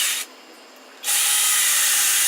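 A drill press boring holes in a wooden leg, a loud steady motor whine that briefly drops in pitch and level, then surges back up.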